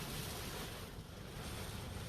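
Strong hurricane wind gust during Hurricane Laura: a steady, loud, broadband roar of wind buffeting the microphone, sustained for the whole stretch with no voices.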